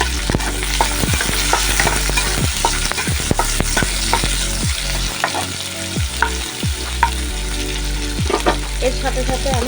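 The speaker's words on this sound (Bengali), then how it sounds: "তো এর মধ্যে এখন পেঁয়াজ আর যে কাঁচা লঙ্কা চিড়ে রেখেছিলাম সেটা দিয়ে দিলাম।" Onion and green chilli for chicken chowmein sizzle steadily in a hot pan while a spatula scrapes and stirs, producing frequent sharp clacks over the continuous frying hiss, loud and close, with no voices.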